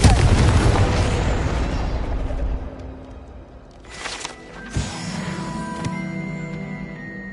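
Confringo spell explosion in Hogwarts Legacy, a loud booming blast that rumbles and decays over a few seconds, followed by sharper smaller crackles and bursts as debris settles.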